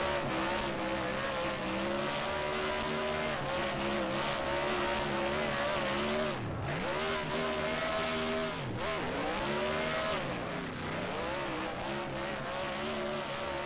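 A modified race car does a burnout at the start-finish line at Pocono, its engine roaring loud and continuous with several dips and swells in pitch as it revs, tire squeal mixed in.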